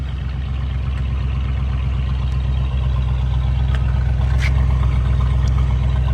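A 1978 Lincoln Continental Town Car idles with its dual exhaust, a steady, close, deep rumble that pulses evenly without any change in pace.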